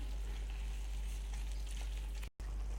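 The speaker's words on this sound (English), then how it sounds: "Keep stirring to ensure that the artichoke hearts are thoroughly blended into the spinach." Artichoke hearts are stirred into spinach in a hot pan, giving a steady close sizzle and frying hiss that is briefly cut off near the end.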